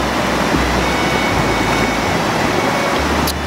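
Rushing water from the river and waterfalls along the Panther Creek hiking trail in North Georgia, a steady, loud broadband roar with low rumble and no pauses.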